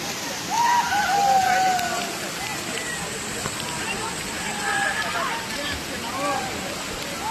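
Heavy rain pours down outdoors after a sunny spell, a steady loud hiss of falling water with a voice talking over it.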